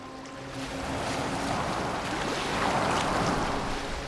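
A boat moves across open water in Assassin's Creed Valhalla, a steady wash of waves and hull splashing with a faint wind, and low voices briefly underneath.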